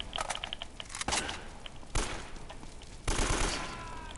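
Gunfire bursts in the video game Uncharted: Drake's Fortune, a loud fusillade of rapid shots with sharp separate bursts and near, punchy impacts.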